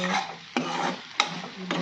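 Potatoes are stirred and fried in a wok, with a continuous sizzle broken by three sharp scrapes of the spatula against the pan, close up, with no talking.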